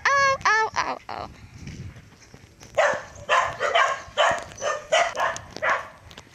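A friendly dog barking and yelping near a roadside neighborhood during a late-afternoon jog walk, a run of sharp barks up close, then a steady series of rhythmic yips and whines.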